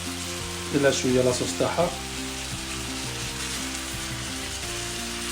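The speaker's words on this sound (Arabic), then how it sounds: "خليناه يتقلى شويه، نزيدو له الطوماطيش تاعنا" Biryani base with tomatoes frying in a pan, a steady hissing sizzle that swells briefly as ingredients are stirred, with a voice speaking over it at the start.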